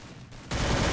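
Rapid gunfire from a first-person shooter match, 4 vs 4 against a clan, starting as a dense rattle and jumping to a much louder continuous burst of overlapping shots halfway through.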